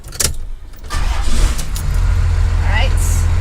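A Cummins diesel in a 1978 Dodge crew cab dually cranks with a few clicks and a brief starter whir, then catches into a loud, steady, low idle that runs to the end.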